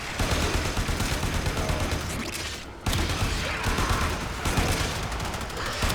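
Sustained in-game gunfire from Warframe, dense rapid bursts of shots and impacts running nearly the whole time with a brief dropout midway, loud and close, mixed with game effects.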